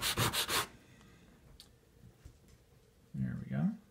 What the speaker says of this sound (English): Rub it on a bit of an angle. Should give me my grade pretty quickly.